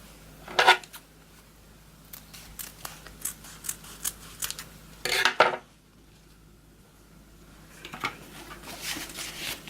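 Scissors snip through ribbon ends while trimming them on a diagonal for a girly hair bow, a few sharp close cuts with light handling rustles in between, no talking.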